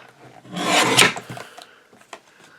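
A single short rasping cut or slice through a recycled Christmas card, about a second long and close, followed by a few faint paper rustles and taps.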